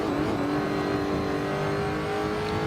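A Lotus GTC race car engine in the Assetto Corsa racing game drones steadily and loudly, holding a sustained, buzzing tone with slight pitch shifts throughout and no voices.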